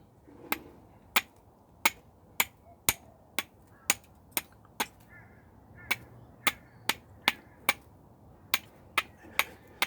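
Flint struck against steel to throw sparks onto char cloth, heard as a long series of sharp, close clicks at a fairly steady rhythm, roughly two per second, over faint background.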